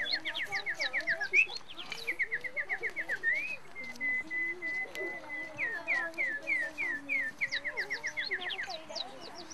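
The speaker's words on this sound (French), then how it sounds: "on entendait les petits oiseaux chanter" Small birds singing in quiet countryside, rapid repeated chirping phrases and trills close by with a softer warbling call underneath, continuous throughout.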